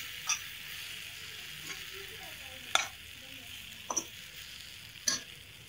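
Kothu idli being stirred in a frying pan, with a soft steady sizzle under occasional sharp clinks and scrapes of a spatula against the metal.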